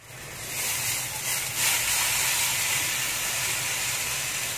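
Marinated chicken cooking slowly over low heat in a wok for a chicken briyani, giving a steady, close hiss and soft sizzle that rises after a moment and then holds evenly, with no talk.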